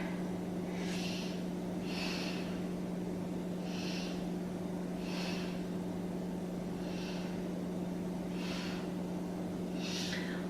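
Slow, audible breaths taken while holding a standing yoga pose, about seven airy inhales and exhales in an even rhythm, close to the microphone over a steady low room hum.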